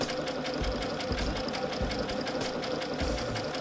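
A sewing machine runs a satin stitch along a raw-edge applique, its rapid needle pounding in a fast, even rhythm with brief pauses, close and clear without voices.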